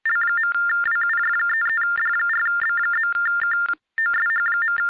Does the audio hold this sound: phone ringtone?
yes